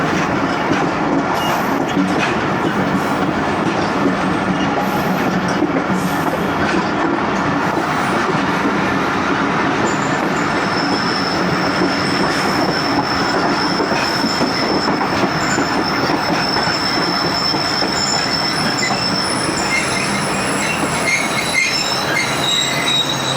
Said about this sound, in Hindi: नई नवेली शालीमार एक्सप्रेस।